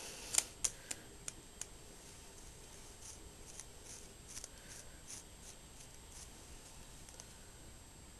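Scissors snip near the ear while point cutting hair. A handful of crisp, faint, close clicks come in quick succession at the start, then sparser light snips follow over a quiet room.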